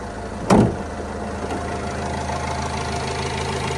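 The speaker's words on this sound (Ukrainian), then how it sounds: "Чути роботу мотора. Ну, зараз він трошки голосніше працює, тому що все-таки він холодний" The cold 2.0 engine of a 2014 Renault Trafic van idles steadily with a low rumble, a brief thump near the start, running evenly throughout.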